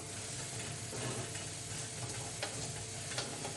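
Grated kaşar cheese bubbles and fries in a toaster, a steady, fairly faint sizzle with scattered small pops and ticks throughout, no voices.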